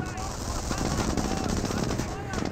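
An MG42 machine gun in Company of Heroes rattles in a continuous rapid burst, dense and loud throughout, with commentary talk running over it.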